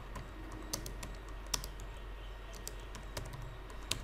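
Quiet, irregular clicking of keys on a computer keyboard, with occasional louder taps over a low background hum.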